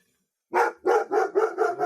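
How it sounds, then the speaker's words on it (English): Dogs bark in a quick run of five sharp, close barks that start abruptly after a brief silence and follow one another at a steady pace. "And there they go. Bark, bark, bark."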